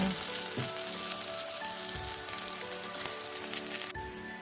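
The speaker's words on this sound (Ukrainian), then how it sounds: "Смажимо млинці на середньому вогні." Steady sizzling of kefir pancakes with greens frying over medium heat in an oiled pan, a continuous crackle with no voices.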